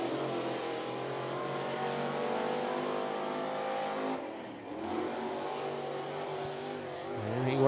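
A NeSmith late model race car laps 411 Motor Speedway in Tennessee, its engine roaring loud and steady, dipping briefly mid-lap before swelling again as it passes near, with faint commentary underneath.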